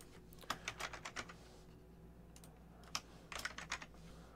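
Typing on a computer keyboard while entering friends' names into a Facebook group dialog: two short bursts of quick, light key clicks separated by a brief pause, close and fairly quiet.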